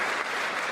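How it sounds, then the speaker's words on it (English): A chamber audience at the State of the Union claps in a dense, continuous roar of applause, loud and sustained through the whole brief moment with no pause. "Literally 3 stand-up moments to applaud in less than 30 seconds."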